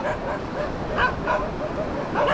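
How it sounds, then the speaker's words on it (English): Dogs on Rajbag Beach in Goa bark and yip repeatedly at a moderate distance, with several overlapping bursts over steady surf-like background noise. "Some dogs are barking."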